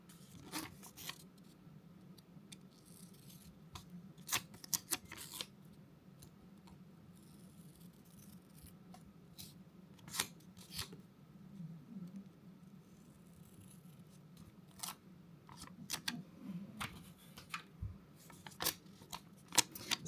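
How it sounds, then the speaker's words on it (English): Scissors snip through a planner page in short, scattered cuts, quiet and close, with irregular pauses between the crisp clips over a low room hum. "Let's trim it up a little bit and then we'll center it."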